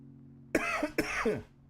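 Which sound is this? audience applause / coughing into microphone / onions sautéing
coughing into microphone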